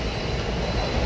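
A Konkan Railway train pulling into a station, heard from inside the carriage as a loud, steady, close rumble of wheels and car body.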